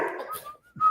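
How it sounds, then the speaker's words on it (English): A short whistle from someone nearby, a thin steady tone that holds briefly and then returns a little louder, following a burst of broadband rustle, with a dog in the house. "I hear the whistling."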